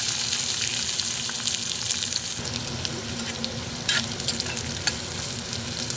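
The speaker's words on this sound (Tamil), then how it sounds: "வெங்காயம் நல்லா கோல்டன் ப்ரௌன் கலரில் வதக்கணும்." Chopped onions fry in hot oil for a prawn thokku, a dense continuous sizzle with repeated scraping stirs of a spoon against the pan, close and fairly loud, with no talking.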